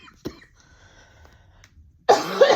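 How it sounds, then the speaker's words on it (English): A person coughs up close: one short cough, a quiet pause, then a louder, longer coughing burst. "Pardon all my coughing."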